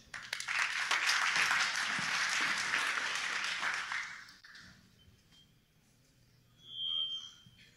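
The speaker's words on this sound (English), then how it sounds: "Give them a round of applause." Conference audience at a BSidesSF security talk applauds the presenters, a burst of clapping that swells then fades out after about four seconds, followed by quiet room tone and a faint brief tone.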